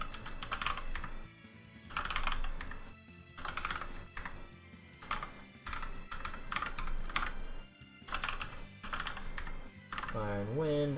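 Computer keyboard clacking from fast typing during a PC game session, coming in dense bursts of rapid keystrokes separated by short pauses, close and fairly loud, with game music and sound effects underneath.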